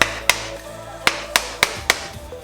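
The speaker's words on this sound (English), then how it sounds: "you're gonna just twist the coconut and just always smash it with the hammer" A hammer strikes a coconut in six sharp, separate knocks, spaced unevenly as the nut is turned between blows, close and loud with no voices.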